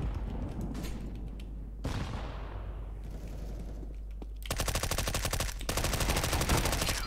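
MP5 submachine gun fire in the shooter game CS:GO: loud, close bursts of rapid automatic shots in dense rattling runs, separated by a brief whooshing lull, with no talk.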